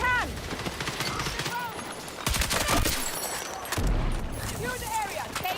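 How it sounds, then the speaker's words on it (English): Gunfire in a PP16 shooter game, with bursts of rapid automatic shots and heavier booms spread through a busy battlefield mix, fairly loud, with voices speaking over it. "I'm getting sniped at"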